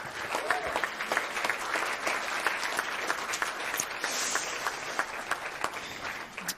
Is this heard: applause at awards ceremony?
yes